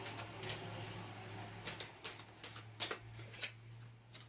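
Angel Oracle cards being shuffled by hand, a soft continuous riffling with small flicks and taps, close and quiet over a steady low hum.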